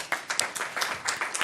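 Audience applause, a brief burst of many hands clapping in a steady, dense patter at moderate volume, with no voices over it.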